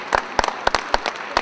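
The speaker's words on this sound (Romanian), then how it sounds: "Să-i întâmpinăm cu aplauze!" A children's concert audience gives short, scattered bursts of applause with several distinct sharp claps, fairly close and loud, no voices.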